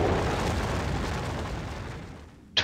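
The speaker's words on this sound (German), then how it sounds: "wirft einen magischen Stein in die Luft, der in einem Kreis aus Splittern explodiert" Magic stone bursting into shards in the video game Might and Magic 7, a broad rumbling blast that decays over about two seconds, followed by a short sharp pop at the end.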